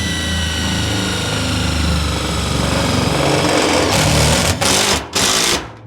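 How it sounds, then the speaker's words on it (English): A power drill driving a screw through a bracket into thin, roughly 1 mm Colorbond steel gate sheet, heard as a steady whirring motor drone that ends in a few short bursts as the screw seats. "what I'm going to do is screw this bracket in"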